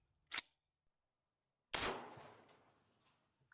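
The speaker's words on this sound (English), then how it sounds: "Moving up to the AR, shooting around a 223." An AR rifle fires a .223 round: a sharp, loud crack followed by a single heavier blast that rings out and decays over a second or so, with no talk.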